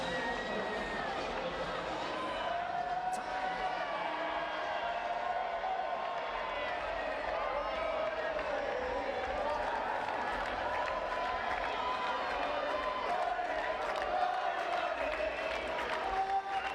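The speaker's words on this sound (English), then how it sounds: "the crowd getting involved in this one" Spectators murmur and cheer in a sustained, steady crowd roar at the Rio 2016 Paralympic men's singles wheelchair tennis gold medal final, Reid versus Hewett, with British fans in the stands and chatter blended through the noise.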